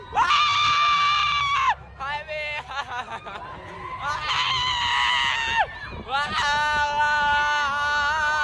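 A person screams in long, loud, high-pitched bursts at a lively group meet-up, with short breaks between them and laughter-like sounds around them.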